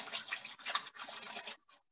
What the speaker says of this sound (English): Sponge, a little water.